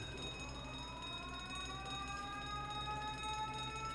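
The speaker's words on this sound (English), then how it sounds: "That's an alarm sound if I've ever heard one." A ship's alarm in The Great Ace Attorney wails steadily at moderate loudness, its rising sustained siren tones layered over a continuous low hum with no voices.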